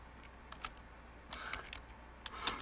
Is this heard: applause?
no